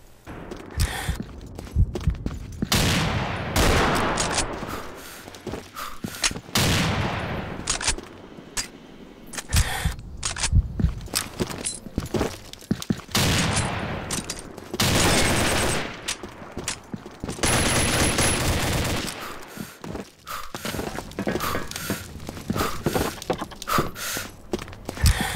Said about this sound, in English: I'm just going to let you guys listen to how the gun sounds for this finishing up part